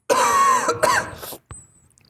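A man lets out a couple of harsh, close coughs in quick succession, followed by a short throat-clearing rasp.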